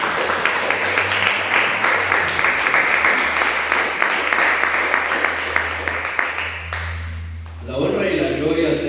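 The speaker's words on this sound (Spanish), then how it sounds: "Dale palmas al Señor, por favor." A church congregation claps in unison, a dense steady patter of many hands that fills most of the stretch before fading as a voice begins to speak.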